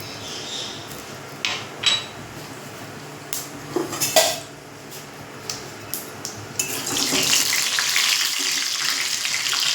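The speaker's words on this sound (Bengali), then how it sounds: "তেল দিয়ে দেবো। গোটা গরম মশলা, জিরে সব ফোড়ন দিয়ে দিলাম।" Whole garam masala and cumin seeds hit hot oil in a pan on a gas stove, a burst of sizzling that swells near the end after scattered clinks and taps of utensils and cookware.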